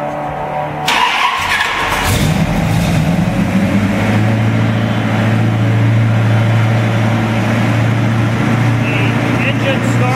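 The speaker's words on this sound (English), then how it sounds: "The engine starts very calmly." A 1932 Plymouth PB touring sedan engine cranks briefly and catches, then settles into a steady, smooth running note close by, with a voice talking over it.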